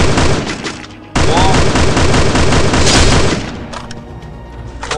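Rapid gunfire from a first-person shooter game, a dense continuous burst of loud shots with booming impacts that drops abruptly mid-clip and trails off into quieter sporadic shots near the end.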